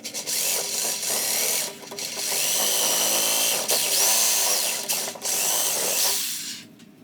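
A power tool whines loudly and continuously while cutting down shock mount parts during a Bilstein 5100 front shock install on a Tacoma, with brief dips in pitch and a short drop-off near the end.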